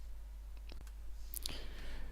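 Several sharp computer mouse clicks come close together, quiet and near, during work in 3D modelling software, with a low steady hum underneath.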